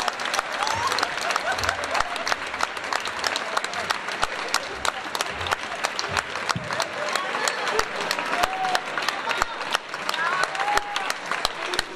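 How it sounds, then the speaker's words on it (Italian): Audience applause at an Italian comedy show, dense steady clapping from a crowd lasting throughout, with scattered cheers and voices mixed in. "Un grande applauso a Zaza, grazie!"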